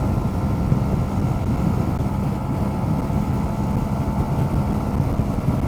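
A small-capacity Honda CB125R motorcycle engine labours up a hill, a steady broadband drone and rumble with wind buffeting, continuous and fairly loud throughout with no talk.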